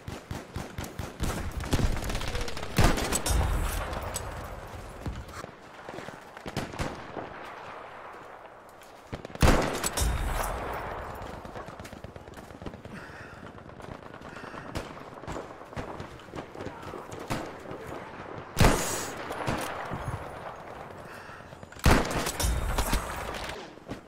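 Gunfire in Battlefield V with a KAR98K rifle, heard as repeated loud shots and bursts, some close and some farther off, over a steady battle ambience throughout.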